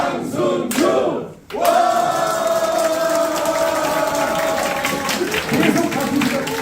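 A crowd applauds and cheers at the opening of candidate Hwang's election campaign office, with steady, dense clapping that dips briefly, then swells and holds loud, mixed with voices.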